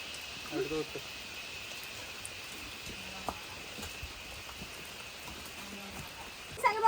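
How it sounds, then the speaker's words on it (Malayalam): Heavy rain falls steadily as a faint, even hiss with a few scattered taps, and brief voices come through now and then. "മഴ അത്യാവശ്യം നല്ല ശക്തിക്ക് പെയ്ത് തകർത്തുകൊണ്ടിരിക്കുകയാണ്."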